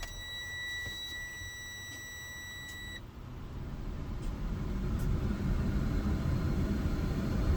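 Dashboard warning beep in a 2024 Class A truck with an Eaton 10-speed transmission, heard during an air brake check after the key is turned to on: a steady multi-tone electronic beep lasts about three seconds, then stops, leaving a low engine or air rumble that grows louder.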